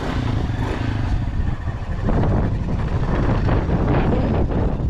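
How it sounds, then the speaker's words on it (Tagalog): Strong wind roars and buffets the microphone continuously in a flooded area, a loud low rumble with gusty surges throughout. "grabe ang hangin, napakalakas talaga hanggang ngayon"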